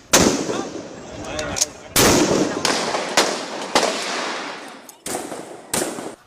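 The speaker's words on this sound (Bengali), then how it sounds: "চাইনিজ রাইফেলে মুহুর্মুহু গুলি ছুটছে পুলিশ" Sharp Chinese rifle gunshot cracks from police ring out one after another at irregular intervals during street protests, each followed by a decaying echo, with faint voices in the background.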